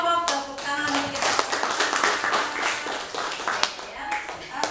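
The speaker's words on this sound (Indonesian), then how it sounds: "tepuk tangan untuk kita" A classroom of high school students claps hands together after group presentations, a burst of scattered, uneven clapping up close with a voice talking over it.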